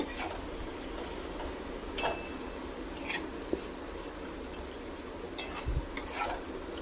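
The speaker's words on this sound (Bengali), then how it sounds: "হাফ চামচ জিরের গুঁড়ো হাফ চামচ লঙ্কার গুঁড়ো হাফ চামচ আমচুর পাউডার দিয়ে এটাকে এবারে মিক্স করে দেব" Dry bitter gourd is stirred in a pan with cumin, chilli and amchur powder, giving scattered spoon scrapes and light metallic clinks over a soft, constant sizzle, with no talking.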